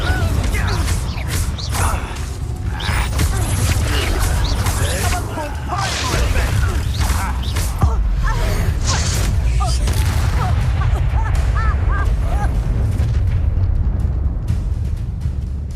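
Incendio fire spell cast in Hogwarts Legacy, a loud fiery whoosh and burst amid continuous combat effects, crashes and booms, with characters shouting over the clamour.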